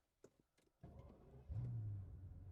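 A Mercedes SL65 AMG Black Series with a V12 biturbo engine starting up: a few faint clicks, a starter whir, then the engine catches with a loud deep rumble that swells and settles into a steady idle.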